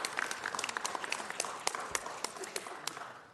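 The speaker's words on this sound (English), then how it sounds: "Please give them a round of applause" Attendees at a city council meeting give a round of applause honoring a girls wrestling team, sparse, fairly quiet clapping with distinct individual claps scattered through a thin, steady patter.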